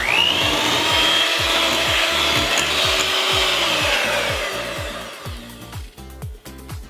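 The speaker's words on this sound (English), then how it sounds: "I'm going to mix the mixture of whipped cream one more time" An electric hand mixer whips cream for tres leches cupcake frosting, a steady loud whirring motor with rhythmic scraping against the bowl, easing off and stopping near the end.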